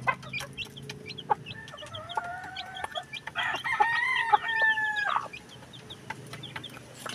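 A hen and her chicks cluck and peep close by in a backyard, with a rooster crowing loudly in the middle amid scattered pecking and scratching noises.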